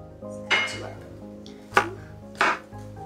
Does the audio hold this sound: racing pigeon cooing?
no